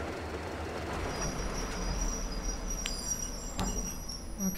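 A train rolls past in the video game Metro Exodus, a steady rumbling rattle with high squealing wheel tones and sharp clanks, set against an insect-like chirping background.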